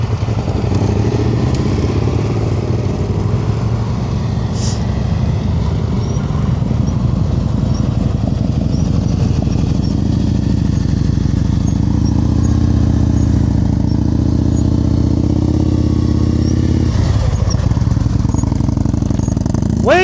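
Motorcycle engine during slow-speed riding practice, a loud, steady low chug held close by for the whole stretch with slight throttle swells and clutch-controlled crawling, no talk over it.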